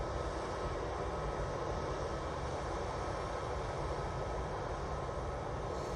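A Lufthansa Airbus A320-200 jet at Manchester Airport gives off a steady, fairly faint engine roar and broad rushing noise that holds even for a few seconds, alone without talk.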